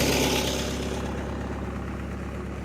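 International Harvester 384 tractor engine idling, a steady low rumble that starts slightly louder and settles into an even, moderately quiet throb with no talking.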